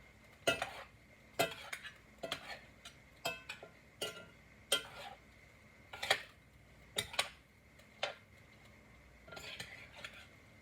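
Metal utensils scrape and clank against a skillet crowded with food as it is tossed and stirred, a steady series of sharp, close clatters at an uneven rhythm with no talking.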